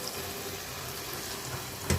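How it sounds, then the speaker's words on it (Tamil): Water being poured into frying tomato pachadi in a pan, a steady sizzle and bubbling throughout with a brief louder splash at the very end. "இப்போ இதுக்கு தேவையான அளவு கொஞ்சமாக தண்ணி சேர்த்துக்கணும்."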